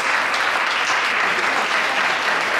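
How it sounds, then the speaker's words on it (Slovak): Sustained, loud applause from an audience at a strawberry cake championship awards ceremony in Prešov, steady clapping filling the whole moment without talk. "Veľký potlesk."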